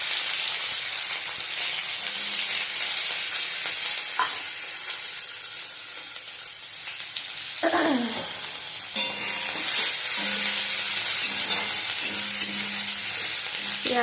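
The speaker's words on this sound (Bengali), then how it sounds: "এবার আমি পেঁয়াজ আর রসুন ফোড়ন দিয়ে দেবো।" Chopped onion and garlic hit hot oil as a tempering for dal, with a steady loud sizzle and a few stirring scrapes running throughout.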